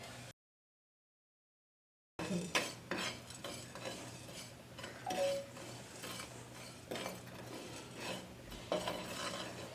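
Cumin and fenugreek seeds dry roasting in a pan while a spoon stirs them: soft scraping, gentle rustling and occasional light clinks, close and quiet, after a brief silent gap at the start.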